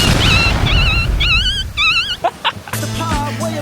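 A dog whimpers and yips in a series of high, wavering cries, fairly close, with some rustling and a low hum behind.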